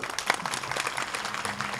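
Audience applause at a Gurupoornima kirtan gathering, a short burst of steady, moderately loud clapping from a crowd.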